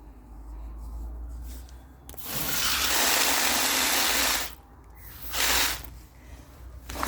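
Water is poured onto damp newspaper in a household wormery, a close hissing gush that runs for a couple of seconds, pauses, then returns in a shorter splash over a low background rumble.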